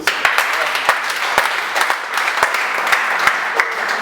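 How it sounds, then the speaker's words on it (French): Congregation applause in a French-speaking church service, loud dense clapping with a few sharper individual claps standing out, continuous throughout. "Applaudissez pour ça."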